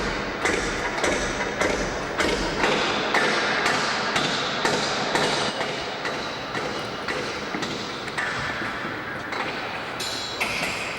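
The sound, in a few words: hammer blows adjusting artwork on scaffolding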